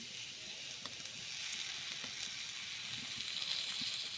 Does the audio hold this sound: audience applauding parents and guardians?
no